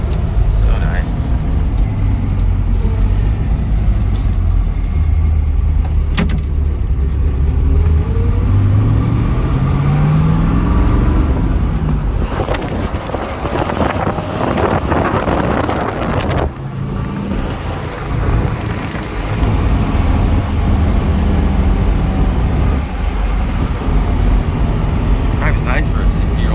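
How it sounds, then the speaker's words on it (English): A 1963 Corvette Split Window with a 327 V8 and four-speed manual rumbles along on the road, a steady low engine drone with wind buffeting and shifts in pitch, while people talk over it inside the cabin. "Drives nice for a 60-year-old car, man."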